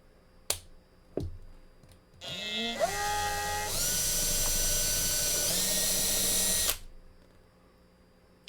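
A power drill whirs steadily for several seconds while boring small posts on a diecast model, its pitch climbing as it spins up, after a couple of sharp clicks beforehand.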